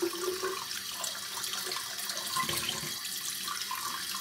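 Water running steadily from a tap while Palmolive Sensitive shave cream is lathered for a wet shave, a continuous close hiss and splash with no talk.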